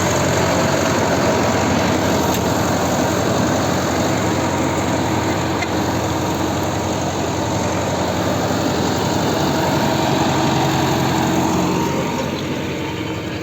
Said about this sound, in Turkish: Traktör 90 e artı